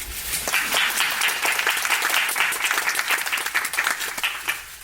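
A full theatre audience applauds steadily after the final performance of a musical, a dense wash of many clapping hands that stays loud and even throughout without any talking.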